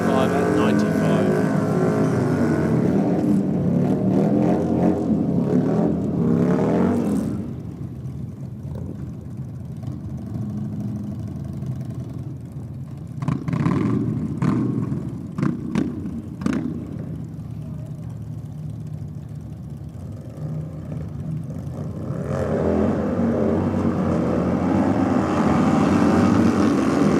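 Motorcycles roar off the line in a bike-night drag race at Sydney Dragway, loud engine noise filling the start and swelling again near the end, with quieter stretches and a voice talking in between.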